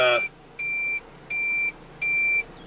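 A cheap DIY electronic buzzer, used as a loud turn-signal alarm, sounds three steady, shrill tones in an even on-off rhythm, close by, after a brief burst of voice at the start.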